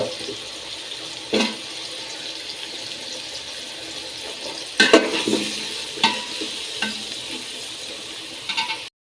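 Potatoes frying in oil in a pan give a steady, moderate sizzling hiss, broken by a few sharp clinks and scrapes of a utensil stirring them. No one speaks.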